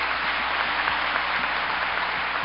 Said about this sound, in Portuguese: Uma forte salva de palmas para todos!